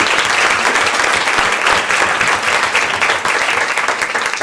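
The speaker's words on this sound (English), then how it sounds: "give our speakers, Steve, Jeff, and Amanda, another round of applause" A community audience at a suicide prevention discussion gives its speakers a round of applause, a dense, loud, sustained burst of clapping that carries evenly through the whole stretch.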